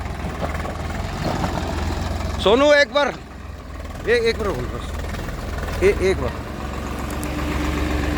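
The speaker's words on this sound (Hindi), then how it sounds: "अब मैं आपको इसका दम दिखाऊंगा ट्रैक्टर का।" A Swaraj 855 FE tractor fitted with 14-28 tyres and a Hans plough idles with a steady low diesel rumble throughout, while a voice calls out over the engine noise.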